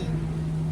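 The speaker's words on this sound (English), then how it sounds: "Sorry for the noise in the background, some guy's cutting the grass." A steady motor drone hums close by with a constant pitch, like a lawn mower running nearby, with no talking over it.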